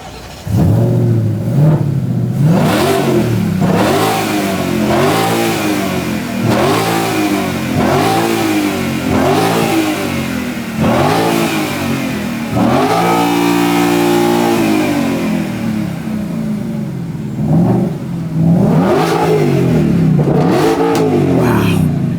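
A powerful Ford Mustang GTD V8 engine roars as it revs repeatedly, rising and falling in pitch, loud and close, with some voices faintly underneath.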